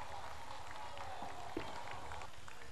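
A large outdoor crowd applauds a government minister at a special ceremony in San Ignacio de Velasco, Bolivia, the clapping a steady dense wash with one sharp louder burst midway and faint background voices.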